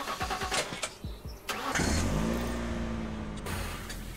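A car engine cranks with rapid stuttering pulses, catches and roars into a loud rev, then settles into a steady idle hum, in the zombie apocalypse game The Last Stand: Aftermath.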